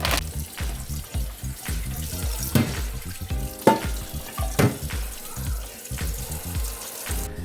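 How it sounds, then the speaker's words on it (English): Tap water running into a large cooking pot in a home kitchen while preparing a seafood boil: a steady splashing, gurgling stream with uneven sloshes, close and moderately loud, no talk. "I'm going to put a pot of water on"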